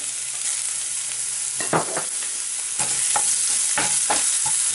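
Chopped ginger frying in hot oil with asafoetida, giving a steady close sizzle broken by several sharp scrapes of a spoon stirring the pan.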